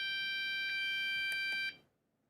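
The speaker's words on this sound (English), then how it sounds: "And it has an alarm function." A homemade digital alarm clock, built by soldering an old electronics project, sounds a steady high-pitched electronic beep tone with a few brief pulses, close and fairly quiet, then stops abruptly.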